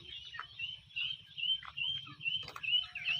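Ducklings of mixed sizes, a few of them fairly large, keep up a busy stream of high, thin peeping calls that overlap and repeat close by over a faint low rumble.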